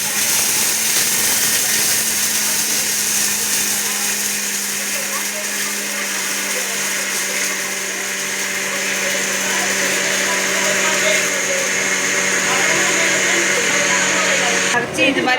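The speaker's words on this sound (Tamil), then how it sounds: "இந்த பொருளெல்லாம் இப்போ மிக்சியில் போட்டு அரைக்க போகிறோம்." A mixer grinder runs loud and steady, whirring for about fifteen seconds as it grinds roasted ingredients for pirandai thokku, then stops with a brief clatter.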